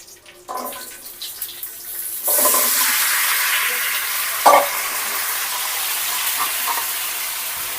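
Fish frying in a home kitchen pan, a steady hissing sizzle that swells loudly partway through and holds at a constant level, with a sharp clatter near the middle and a few small knocks over the frying.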